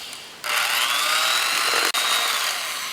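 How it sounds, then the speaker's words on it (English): An electric hand mixer whirs steadily through pumpkin bar batter, a loud, close motor whine that starts abruptly, cuts out for an instant and then carries on evenly, with no talking. "using your electric mixer or your hand mixer, we're going to slowly incorporate it."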